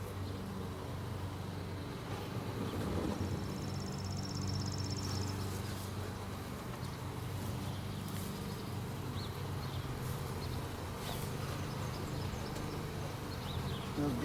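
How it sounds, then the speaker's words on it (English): Honeybees swarm around an open hive with a deep brood box being added, a steady dense buzzing that fills the whole stretch at close range with no talk over it. "They're pretty busy today doing their bee thing."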